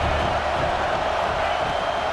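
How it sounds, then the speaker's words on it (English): Stadium crowd noise during a college football game in EA Sports College Football 26, a dense, continuous roar of fans pressing on the offense, steady and loud with no clear cheers standing out. "This crowd trying to make life miserable for this offense."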